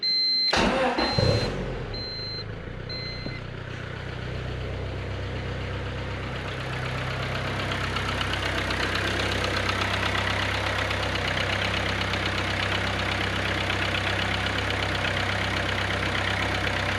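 A modified Japanese rice-rocket car fitted with a new dash cranks briefly and fires up, then settles into a steady, loud, close idle with an even mechanical hum and no talking.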